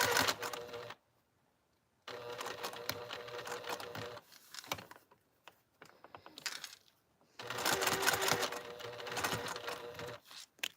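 A sewing machine stitches around a pocket in quiet bursts of rapid mechanical chatter, pausing briefly at corners to pivot, with soft clicks and handling noises between runs.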